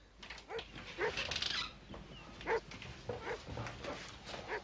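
An injured Briard dog, hurt after being knocked down by a car, whimpers and yips in short high cries spaced through the moment, close and moderately loud with no clear talk.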